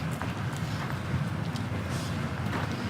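Horse hooves clop in a steady rhythm at close range, soft repeated thuds over a low rumbling background with no voices.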